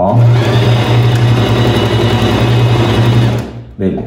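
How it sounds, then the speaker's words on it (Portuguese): A Singer Fashion sewing machine stitching fabric while bobbin thread bunches under the cloth, a loud, steady, close motor whir with rapid needle clatter that cuts off near the end, followed by a short thump. "vamos colocar aqui, costurar para ver como é que tá"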